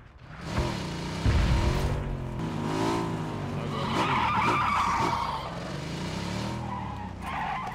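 A car in the video game PUBG drives and skids, with sustained tire squeal and engine drone rising and falling, loud and continuous throughout.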